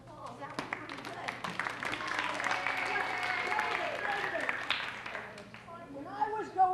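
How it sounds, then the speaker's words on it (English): A live audience at a 1992 show claps steadily for several seconds, a dense patter of hands heard from mid-distance that swells and then fades, with a voice speaking near the end. "Give yourselves a round of applause"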